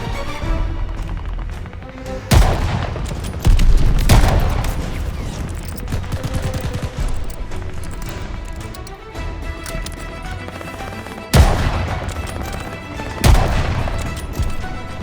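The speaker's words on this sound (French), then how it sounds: "On essuie des tirs d'en haut! Aux fenêtres!" Gunfire from above in Call of Duty Vanguard, sharp loud shots and bursts cracking over a busy battle din, with heavy blasts at intervals across the scene.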